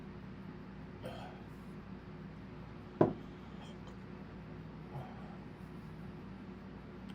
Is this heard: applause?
no